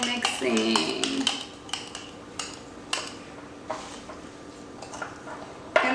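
Coconut oil body scrub being stirred in a bowl, a series of light taps and clinks of a utensil against the sides, close and soft, with brief speech in the background.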